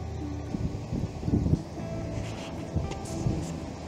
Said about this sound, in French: Le vent souffle toujours